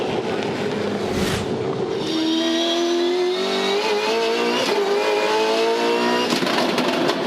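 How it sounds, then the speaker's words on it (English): A Supercars V8 race car at Winton in 2013 revs hard after its gearbox slips into neutral, the engine note climbing loud and steady with harmonic whine and no gear load, under constant crowd and track noise. "That's gearbox drama. That sounds like it's grabbed a neutral."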